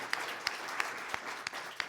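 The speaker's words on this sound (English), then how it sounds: "And a round of applause, too," Audience at a high school debate championship clapping for the runner-up, a soft continuous patter of many hands with a few sharper individual claps spaced through it, at moderate distance.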